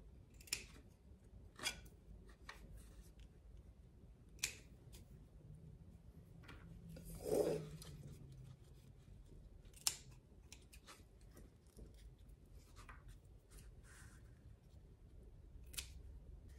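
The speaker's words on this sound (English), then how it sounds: "any of these dark, just cutting off. Trim the edges." Scissors trim the dark, damaged edges off an aloe leaf, giving a few sparse, quiet snips spread out over a soft, faint background.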